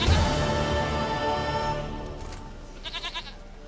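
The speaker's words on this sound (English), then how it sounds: "Goat of mine, dearest, sweetest goat." A goat bleats in The Witcher 3, a few short wavering calls coming near the end over a steady bed of game music and ambience.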